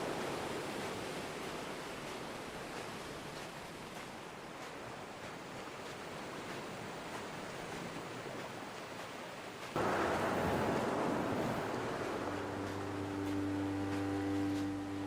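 Waves breaking on a beach on a windswept island shore in Dear Esther: steady broadband surf washing in, growing louder and closer partway through, with a low droning musical tone rising underneath near the end.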